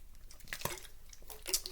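Soft liquid sloshing and wet swallowing sounds come from a bottle of Vitamin Water being drunk, close up and faint, with no talking.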